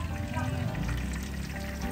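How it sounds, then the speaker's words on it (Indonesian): Pempek fish cakes fry in hot oil, giving a dense, steady sizzle and crackle close by with faint stirring, with no voices. "ini pempeknya tinggal kita goreng"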